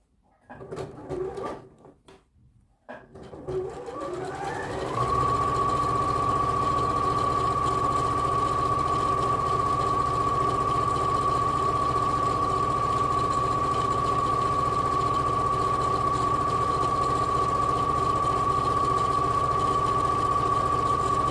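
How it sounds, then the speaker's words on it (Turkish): A sewing machine stitches a second seam on a tunic. After a few seconds of handling noise it settles into a steady, continuous mechanical whir with a high tonal whine, running unbroken at close range. "şimdi bu dikişin altından bir dikiş daha dikiyorum."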